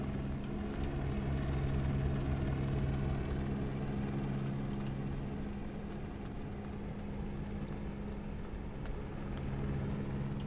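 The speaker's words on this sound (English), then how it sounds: "Yeah, keep the helicopter running." A helicopter's rotor and engine idle in a flight-simulator game set on a dinosaur island archipelago, giving a constant, loud drone with a steady low hum and no break for ten seconds.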